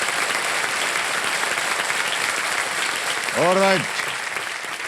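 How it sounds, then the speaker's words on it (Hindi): A studio audience on the Indian game show KBC claps steadily and loudly after a contestant wins 50 lakh points, while a host speaks briefly over the applause. "एक बार फिर ताली बज जाए आपके लिए"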